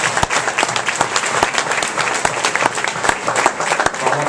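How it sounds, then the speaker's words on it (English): An audience at a panel event with Marc Ecko and Kevin Powell claps loudly and continuously, dense applause from a crowd with sharp individual claps standing out near the front. "Let's give one last round of applause."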